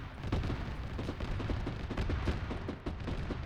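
Video-game gunfire, heavier than 5.56, cracks in quick double-tap bursts, repeated shots spaced across a busy, noisy battle mix at moderate distance.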